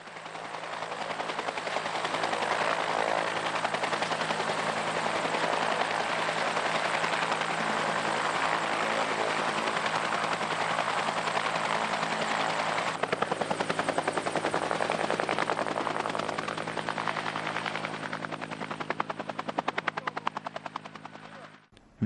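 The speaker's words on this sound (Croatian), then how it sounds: "osobi u životnoj opasnosti je bio potreban transfer helikopterom oružanih snaga Bosne i Hercegovine" Military helicopter of the Armed Forces of Bosnia and Herzegovina flying during a civil protection exercise, a loud, continuous rotor and engine roar with steady blade thumping that holds throughout, with no talk.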